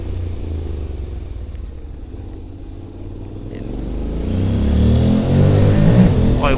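A Honda X-ADV scooter's engine runs steadily while being ridden, a continuous low rumble with wind noise that swells louder and rougher toward the end as it accelerates; no talking.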